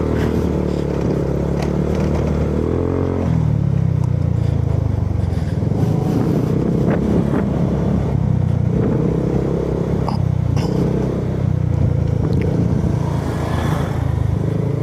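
A motorcycle rides over a rough, potholed dirt road, its low engine rumble steady and close, with bumps, rattles and scraping clatter throughout.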